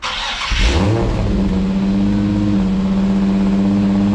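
A Nissan 350Z or 370Z fitted with a new Zspeed clutch cranks briefly, catches and settles into a loud, steady idle with a low, even engine hum close by.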